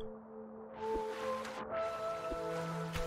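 Water splashes and whooshes in the Celeste platformer game, a couple of bright swelling washes of sound over steady game music tones.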